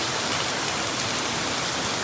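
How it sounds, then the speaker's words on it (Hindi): Heavy rain pours down in a dense, steady hiss that fills the whole stretch at even loudness, close and unbroken with no speech over it. "बहुत तगड़ी बारिश हो रही है।"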